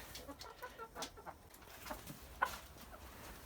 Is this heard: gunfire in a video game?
no